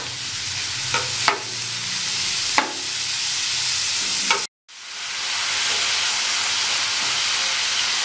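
Green chillies and curry leaves sauté in hot oil in a pan, giving a loud, continuous hiss and sizzle with a few stirring clicks. The sound cuts out briefly and then resumes.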